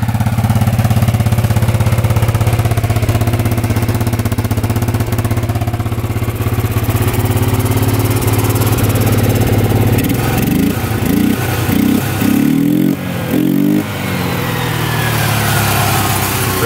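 A smoking ATV engine runs loud and close, droning steadily at first before several quick rising and falling revs near the end, with no one speaking.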